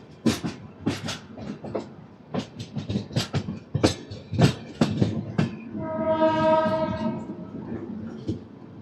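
A train passes on the Vijayawada–Chennai main line, with a run of loud rhythmic clatters from the wheels, then a sustained horn blast near the end.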